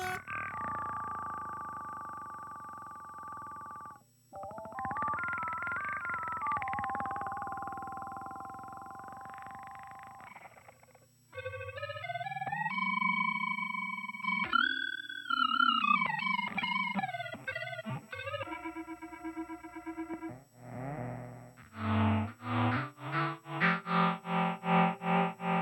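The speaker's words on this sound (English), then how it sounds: "Higher notes have a faster vibrato kind of sound." Guitar through a Line 6 HX with a vibrato effect, sustained notes and chords wobbling in pitch, higher notes shimmering faster, then a fast pulsing tremolo-like section at the end, clear and alone with no talking.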